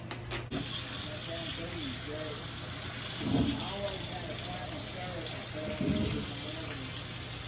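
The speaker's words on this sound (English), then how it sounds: "we're gonna keep washing them back and forth till the water's clean" Water running from a tap with splashing and sloshing as wild fox grapes are swished around in it, and someone talks quietly over the flow.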